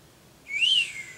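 A single thin, breathy whistle rising slightly then trailing off, short and faint against a quiet background.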